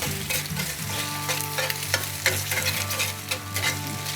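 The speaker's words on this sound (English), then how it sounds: "So just go ahead and crack those eggs right in there. And then what we do is we stir those up." Freshly cracked eggs are stirred in a hot frying pan, giving a continuous close sizzle broken by repeated scraping strokes of the utensil, with faint background music and no talking.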